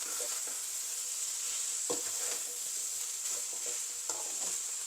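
Cooked, drained rice is stirred into a hot pan of pineapple fried rice, giving a steady, close sizzle broken by a few soft scrapes of the spatula, with no talking.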